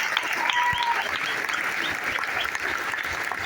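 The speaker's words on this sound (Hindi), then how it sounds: "सबसे पहले आए हुए सभी नए लोगों का एक बार जोरदार ताली बजती है" Loud, dense applause from a room full of people welcoming newcomers at a direct selling meeting, a continuous clatter of many hands with faint voices mixed in.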